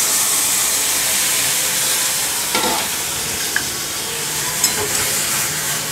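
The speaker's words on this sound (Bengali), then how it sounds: "যেটা আমি ম্যারিনেট করে রেখেছিলাম সেটাই আমি দিচ্ছি বেগুনটা" Marinated eggplant fries in a hot wok with a loud, steady sizzle and hiss, with a few faint clinks of stirring partway through and no talking.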